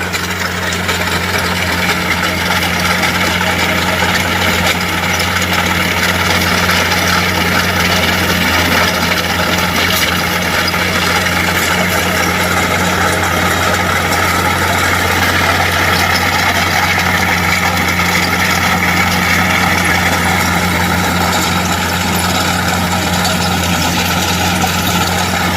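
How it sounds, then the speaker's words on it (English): A backhoe engine idles steadily on a site where a massive stump is being dug out for underground electric work, a loud, constant low rumble with a droning hum that holds unchanged from start to finish, with no voices. "So they're coming back with a backhoe, and I believe they're digging out a massive stump"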